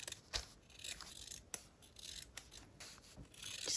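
Scissors snip corners off a piece of craft material for a homemade charm display, giving a handful of short, crisp cuts spaced irregularly, close and fairly quiet with light rustling between them.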